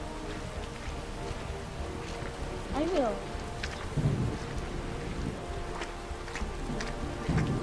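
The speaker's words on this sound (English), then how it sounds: "The rain's making everything slippery." Steady rain hisses in Skyrim with a low, distant rumble of thunder underneath, while voices talk over the storm.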